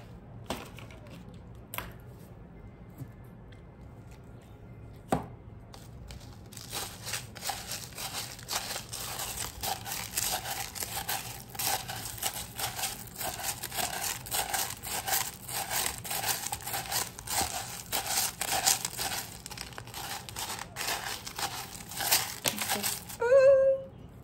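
Small pieces of coloured glass are cracked and crushed by hand, giving irregular crunching, crinkling and clinking bursts that start sparse and become a dense, steady grinding for most of the stretch, close to the microphone with no talking.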